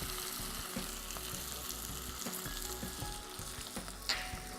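Chopped ginger sizzles in a pan with frying onions and beans for a vegetarian lubia biryani, a steady close crackle with occasional stirring knocks and no talk.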